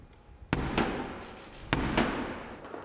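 Door of the Commons being struck at the State Opening of Parliament: two pairs of sharp, echoing knocks ring out in a large, reverberant hall.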